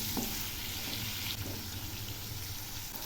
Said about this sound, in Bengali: এই কুমড়োগুলো খুব ভালো করে ভেজে নেব।